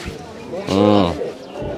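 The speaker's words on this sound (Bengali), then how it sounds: "অনেক সুন্দর সুন্দর কবুতর" A pigeon gives a soft, throaty coo at close range at a rural village market, a single rounded call between faint background noises.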